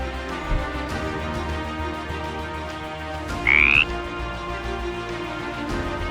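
An African bullfrog croaks once in a short, loud, low burst midway through, set against a steady bed of ambient background noise, with no voices.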